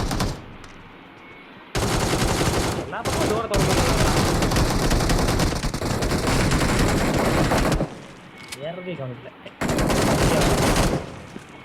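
Rapid gunfire bursts in the mobile battle royale game BGMI, loud and dense, broken by brief pauses, while players talk over the shooting.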